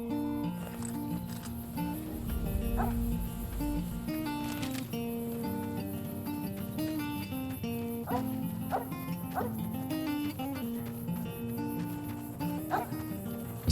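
In Fallout New Vegas, a dog gives several scattered barks and yips over continuous background game music at moderate distance.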